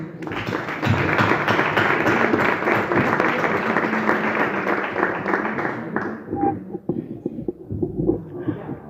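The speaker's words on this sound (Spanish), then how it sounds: "Pido un aplauso para ellos." Audience at a poetry gathering in Torrejón claps for the performers in a long, dense burst that holds steady for several seconds before thinning into scattered claps, with a faint voice near the end.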